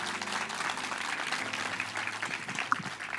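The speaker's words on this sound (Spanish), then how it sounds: "¿por qué no damos un aplauso a Dios por su palabra?" A church congregation applauding together, with a dense, steady wash of clapping that holds at an even level for a few seconds.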